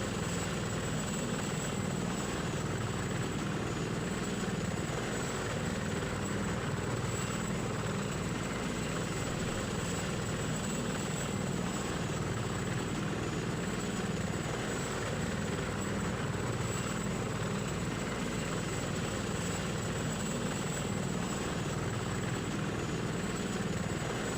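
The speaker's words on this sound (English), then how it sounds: "we have an Apache looking out" An Apache helicopter in a military video game, a steady rotor and engine drone that stays loud and unbroken throughout, with no voices.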